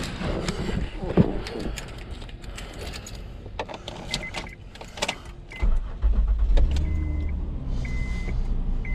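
A Honda Accord Crosstour with a newly replaced alternator cranks and fires up after some clicks and key rattles, then settles into a steady idle heard close by.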